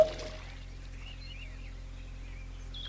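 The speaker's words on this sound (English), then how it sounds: "He filled a large watering can and began to pour the cold water all over himself" Cold water poured from a large watering can onto a person standing indoors: a faint, steady pour over a low background hum, with thin rising trickle tones and no talking.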